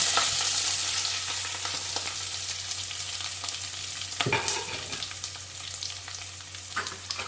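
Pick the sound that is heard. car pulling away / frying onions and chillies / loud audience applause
frying onions and chillies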